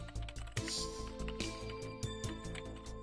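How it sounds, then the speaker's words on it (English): Fingers type rapidly on a computer keyboard inside a van, a quick, close run of crisp key clicks with an echoing quality, underneath steady background hum. "The sound of her typing echoes through the van."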